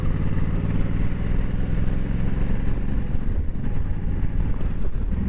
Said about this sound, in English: I think this is a 99 or a 2000 Suzuki Intruder 1500.